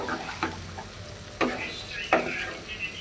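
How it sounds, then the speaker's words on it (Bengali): Jackfruit and shrimp are stirred into fried spice paste in a pan, giving a steady soft sizzle broken by three scraping strokes of a spoon, close and moderately quiet. "তো এবার আমি কষিয়ে রাখা মশলার সাথে এসরটা ভালোভাবে মিশিয়ে নেব"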